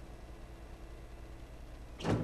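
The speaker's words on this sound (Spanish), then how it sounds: "Abrimos esta puerta." A door opening in Resident Evil HD, a short burst of a thud and scrape arriving only at the very end after near silence, quiet overall.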